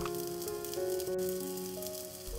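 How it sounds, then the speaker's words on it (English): Beetroot and paneer kofte balls frying in hot oil in a pan, a steady close sizzle with continuous crackle and no talking. "The frying part is easy."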